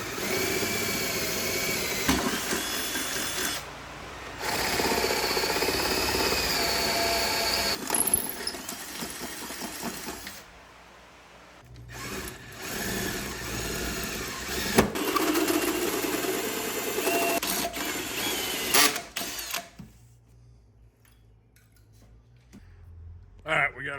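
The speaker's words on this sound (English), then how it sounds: "we got our 2 holes drilled in the firewall" Power drill boring holes through the firewall of an OBS Chevy truck during a five-speed manual swap: loud, sustained grinding bursts that stop and start, with brief pauses between holes and talk at times.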